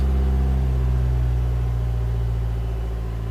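A 2015 Vauxhall Vivaro 1.6 CDTi diesel van engine that cuts out around 3000 rpm drones loudly and steadily with a deep, even hum close by, no talk over it.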